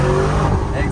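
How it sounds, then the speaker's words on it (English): A 2021 Lamborghini Urus SUV with an Akrapovic exhaust revs loudly and close by, a dense, rumbling engine roar that fills the whole second without a break. "This car is fitted with Akrapovic as well, so you got the nice tone."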